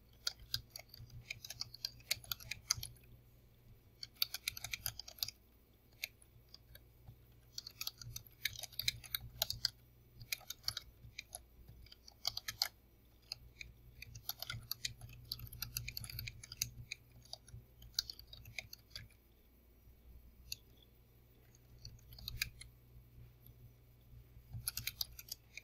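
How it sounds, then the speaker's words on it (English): Fingers type an answer on a computer keyboard: a steady stream of light, close key clicks in uneven runs and short pauses, over a low constant hum. "So I'm going to type this in the correct way."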